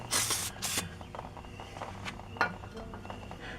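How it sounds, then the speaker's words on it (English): Brake cleaner sprays onto the brakes of a 2001 Polaris Sportsman ATV in two short, close hissing bursts near the start, followed by faint clinks and shuffling. "We're just hosing it down with a little bit of brake clean, get all that penetrating oil off."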